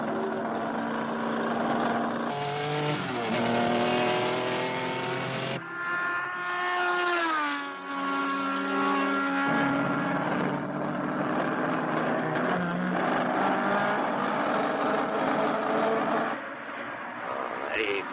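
Race cars on a circuit during a world championship race, their engines whining and rising in pitch as they pass, loud and continuous across the whole stretch, with someone commentating over the top.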